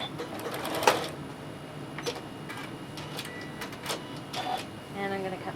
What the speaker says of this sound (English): Then I'm going to back stitch just to lock this in.